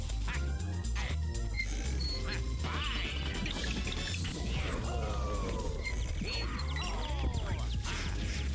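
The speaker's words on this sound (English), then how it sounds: "Kill these fucking birds." Ducks quacking in the Wario World video game, repeated quacks over game music and effects, fairly close and clear.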